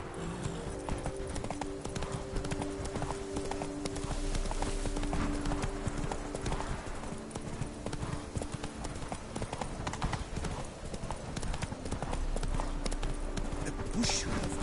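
The horse Roach trots in The Witcher 3, steady clip-clop hoofbeats under a constant layer of game ambience and music, moderately loud throughout with no pauses.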